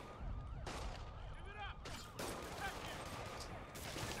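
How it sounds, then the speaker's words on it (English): A thrown bomb explodes in a Spider-Man game, with repeated booming blasts and crackling bursts layered over a busy street fight with police, loud and dense throughout, sirens or whistling tones briefly threading through. "let's go ahead and throw a bomb"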